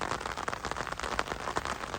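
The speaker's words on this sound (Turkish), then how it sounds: "Yağmurun altında arılarla beraber Onur hocamızla birlikte" Rain falls outdoors among beehives, a dense, continuous patter of drops striking nearby surfaces, fairly close and even throughout, with no talking.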